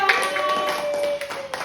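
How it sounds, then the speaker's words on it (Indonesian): A classroom group claps briefly for a student team, a short patter of scattered hand claps mixed with background voices. "tepuk tangan untuk kelompok 2"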